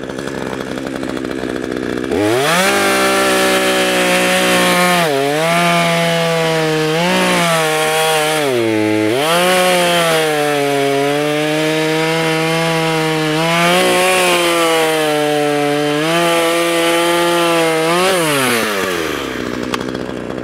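Craftsman S165 chainsaw fitted with a dull chain, running loud and close throughout with a steady harmonic whine that rises and dips as it revs, alone without talk.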